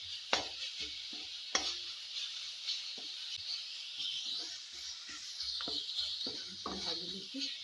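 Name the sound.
frying Mughlai paratha filling in pan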